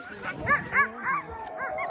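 Iditarod sled dogs give a run of yips and yelping barks, several short excited calls in quick succession at moderate distance, with some voice mixed in.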